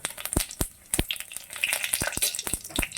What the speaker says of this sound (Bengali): ফোড়নটা ভালো মতোই ভাজা হয়ে গেছে